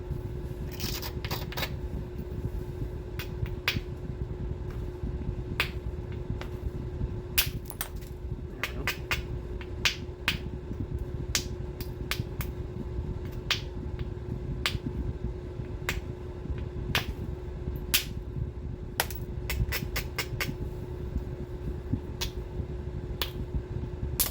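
Percussion flaking of Georgetown chert to zigzag an edge: sharp, irregular knapping clicks and ticks, some in quick clusters, close up over a steady low hum.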